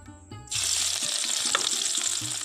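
Chopped onion dropped into hot mustard oil, setting off a sudden loud, hissing fry that keeps going steadily, with faint stirring taps underneath.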